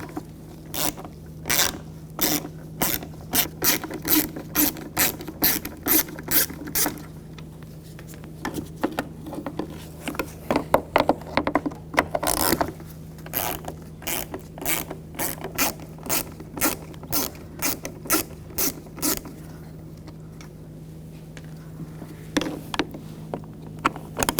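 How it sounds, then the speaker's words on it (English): A ratchet with a T20 socket backs out headlight cover screws on a 2000-2006 BMW X5. Runs of quick, close clicking repeat over a steady low hum, pausing between screws, with no voices. "Use a T20 socket. Take these screws out."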